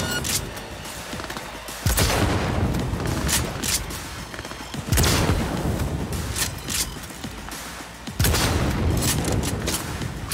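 Bursts of heavy gunfire in Cyberpunk 2077, loud and close, with three sharp onsets followed by sustained rapid volleys and crackling shots.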